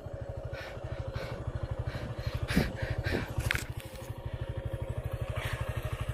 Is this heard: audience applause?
no